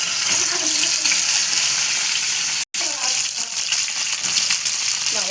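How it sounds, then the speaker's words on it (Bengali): Hot oil splatters and sizzles steadily while boal fish fry in a pan, a dense hiss running throughout with one brief dropout midway. "বাবা তেল ছিটাচ্ছে তো"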